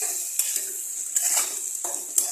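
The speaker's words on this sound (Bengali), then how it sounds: "আঁচটাকে কমিয়ে এটাকে আরও 2 মিনিট মতো এরকমভাবে নাড়বো" Mutton masala with garlic and ginger paste stirred in a pot over a low flame, a faint hiss with several sharp spoon scrapes and clinks against the pot, close and without voices.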